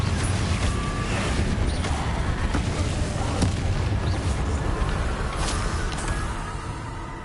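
A dense, continuous rumble of explosive blasts and crackling magic from the Confringo fire spell in the video game Hogwarts Legacy, loud and sustained throughout with no clear gaps between impacts.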